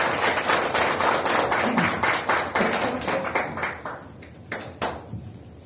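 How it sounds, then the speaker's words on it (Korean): A lecture audience claps to welcome a visiting professor, a burst of many hands at first, then thinning to scattered claps that fade out, with little else around. "박수로 맞으시죠."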